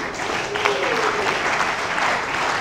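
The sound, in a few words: audience applause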